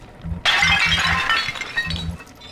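A porcelain tea service in Louis XV style shatters in the video game Bioshock 2, a sudden bright crash of breaking pieces that rings out and tinkles away over a low musical pulse.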